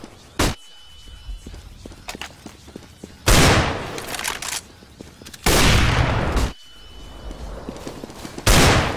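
Flashbang grenades go off in a video game: several loud bursts with bright ringing tails, separated by quieter stretches with faint clicks and footsteps.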